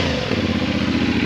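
A CFMOTO 450SS motorcycle with its stock exhaust idles and revs steadily up close, a throbbing, clattering engine note that stays loud and continuous throughout.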